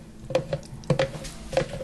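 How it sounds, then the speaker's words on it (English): A big spoon stirring a thick pineapple sourdough starter, giving wet squelching scrapes and taps in three uneven bursts, close up. "I'm just giving this a good stir with my big spoon"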